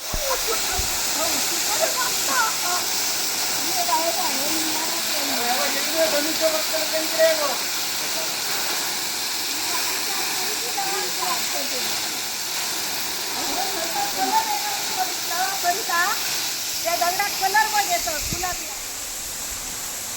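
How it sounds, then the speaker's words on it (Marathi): The Yeram waterfall in Sindhudurg, Konkan, pours in a steady roaring rush, close and continuous, while people speak faintly underneath. "या धबधब्याचं नाव हे येरमच आहे"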